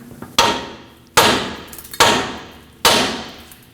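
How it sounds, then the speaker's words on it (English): Four loud, sharp hammer blows in a steady rhythm hit a tie rod end stud to knock it loose during a lower ball joint replacement on a 2005-2021 Nissan Frontier 2WD. Each strike rings briefly and then fades, and there is no talking. "Now hit this with a hammer and break free that stud."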